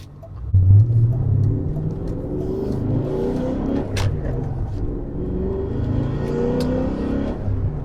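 A BMW E39 M5 Dinan S2 engine rumbles and rises in pitch as it accelerates, steady and close, with a brief sharp click partway through.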